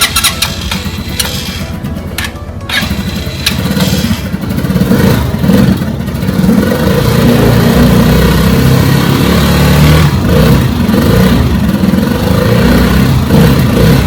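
A RUSI Chariot 175 motorcycle engine, choked, runs steadily and loudly up close, with a low rumbling idle and some uneven revving early on before it settles into a continuous drone.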